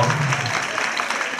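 Brief burst of dense crowd clapping at a 2018 Christmas gala, fairly loud and steady, with a low humming tone underneath during the first half.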